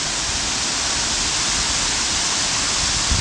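A jungle waterfall in Thailand, running low on a very hot day, makes a steady, even rushing hiss of falling water that stays constant throughout, with no voices.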